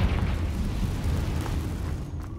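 A Confringo spell explodes in Hogwarts Legacy on Xbox Series X, a loud, sustained rumbling blast that rolls on heavily before easing off slightly at the end.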